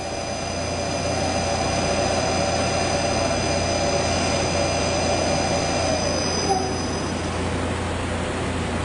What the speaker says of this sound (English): turn my spindle on again backwards, come down and physically hit the edge of that tool